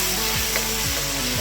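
Vegetables and rice coated in spices fry in a pan for a dhaba-style veg pulao, giving a steady, close sizzle with faint scraping from stirring.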